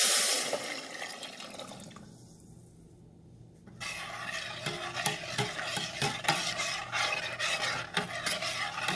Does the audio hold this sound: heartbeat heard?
no